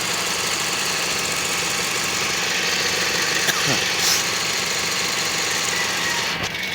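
A Toyota Vios gen 2 radiator fan runs alongside the AC compressor, giving a loud, continuous engine-bay whir and rumble with steady mechanical vibration and a couple of brief clicks.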